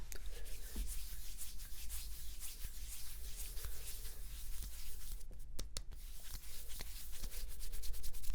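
Close-up rubbing of oiled skin on a muscular arm, a steady soft friction texture running continuously with a few brief taps, no talking.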